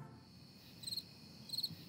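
Crickets chirp in two short, evenly spaced bursts, faint against a quiet background with nothing else audible.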